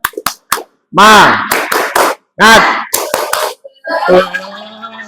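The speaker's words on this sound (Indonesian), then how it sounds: "untuk itu kita mukadimahi dulu dengan tepuk semangat" Voices of a classroom chant 'semangat' in unison, punctuated by sharp, clustered claps in a rhythmic Indonesian clapping cheer, loud and close, ending with a spoken shout.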